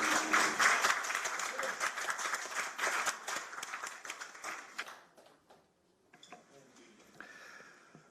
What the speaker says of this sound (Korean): 그리고 박수